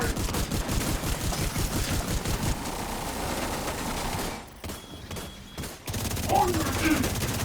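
Rapid gunfire in The Division 2 video game: dense, continuous volleys of shots layered with in-game voices, dipping briefly before the shooting resumes.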